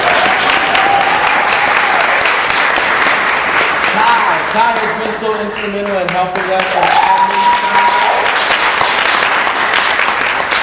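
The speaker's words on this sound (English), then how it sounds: "Let's give Becca Zayla a round of applause." Applause from a theater audience at a staged reading runs steadily throughout, while a speaker on a microphone talks over it.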